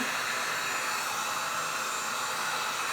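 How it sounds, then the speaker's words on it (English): Heat gun blowing hot air to melt leftover wax: a steady, continuous airy roar at moderate level, with no talking. "I will take the heat gun"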